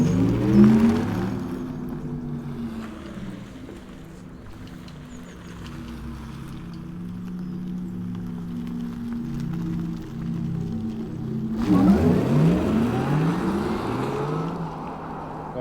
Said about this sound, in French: c'est le son sport électrique